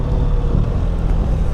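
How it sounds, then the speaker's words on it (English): BMW R 1300 RT motorcycle with a boxer engine cruising at low revs in automatic mode, producing a steady, loud low rumble with wind noise throughout and no talking. "Just got that kind of characteristic boxer sound to it."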